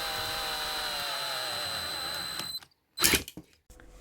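A power drill bores slowly into the side of a cup for a snow globe, a steady whining hum with high tonal lines for about two and a half seconds before stopping, then a short loud burst and a quieter restart.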